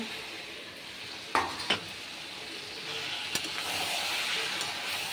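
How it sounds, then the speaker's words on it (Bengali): Potatoes and soybean chunks frying in a pan, a steady soft sizzle with a few sharp scrapes of a spoon being stirred through them, close and moderately quiet, no voices. "এবার সব একসঙ্গে ভালো করে কষে নেব।"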